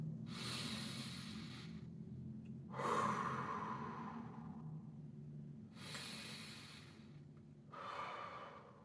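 Slow deep breaths draw in through the nose and push out through the mouth while lying on a foam roller. Four long, airy whooshes come close and clear, separated by short pauses.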